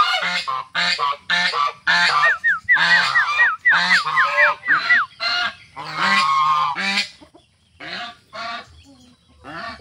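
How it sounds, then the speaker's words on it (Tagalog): Loud, close geese honking in rapid repeated bursts, several birds calling over each other, then trailing off into fewer, quieter honks. "Magsaba ang gansa guys."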